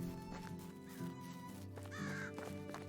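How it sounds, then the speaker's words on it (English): Crows caw a few times in the Medieval Dynasty video game, set against steady game ambience and background music. "Hello, birds."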